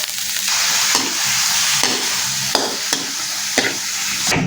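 Eel fries in hot oil in a pan while being stirred, a loud close sizzle running steadily under repeated scraping strokes of the utensil, with no talk.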